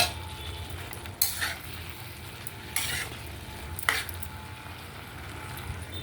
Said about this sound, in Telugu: జీడిపప్పు వేగుతుంది బాగా.